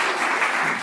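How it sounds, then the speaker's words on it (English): A crowd claps steadily in a brief burst of applause, dense and even throughout. "give us a big applause"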